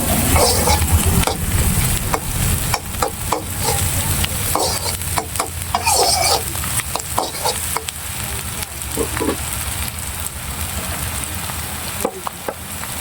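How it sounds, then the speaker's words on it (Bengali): Cumin seeds fry in a pan for an egg curry, sizzling continuously while a utensil stirs and scrapes in repeated clattering strokes, close and fairly loud with no talking. "দিয়ে দিলাম জিরে, দিয়ে আরো সুন্দর করে একটু ঘেটে নিব যেন সুন্দর হয়।"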